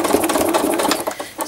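A sewing machine stitching thread art runs in a rapid stream of closely spaced needle clatters, close and fairly loud, slowing and faltering briefly near the end.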